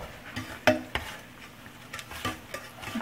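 Eggs are mixed by hand into blondie brownie batter, giving soft scraping and scattered light clinks of a utensil against the bowl, close and fairly quiet.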